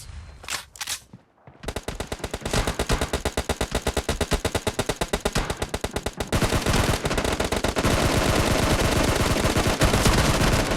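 Rapid automatic gunfire from the PUBG Mobile battle royale game, beginning with a couple of isolated shots, then long fast bursts of loud close shots that merge into a dense, continuous roar of fire.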